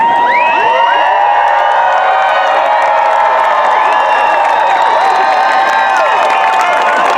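A large crowd cheers and screams loudly and continuously at a Marine Corps graduation at MCRD, with whoops and scattered clapping blending into a dense roar.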